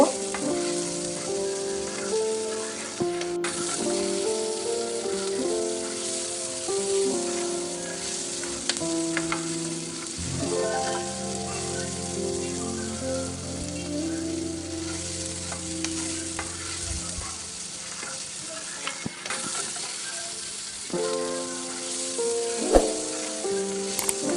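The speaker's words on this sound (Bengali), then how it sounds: "এবার এগুলোকে একসাথে নেড়ে চেড়ে ভালোভাবে মাখিয়ে নেব" Bulgogi noodles stir-fried in a pan make a continuous close sizzle and hiss, broken by frequent scraping and tossing strokes as they are mixed, with no speech throughout.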